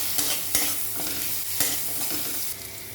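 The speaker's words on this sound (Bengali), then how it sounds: "ফোড়নটা ভাজা হয়ে গেলে আমি এতে রসুন বাটা দিয়ে দেবো" Garlic paste frying in hot oil with nigella seeds and green chillies for a fish curry, giving a steady close sizzle punctuated by several sharp stirring scrapes against the pan, with no talking.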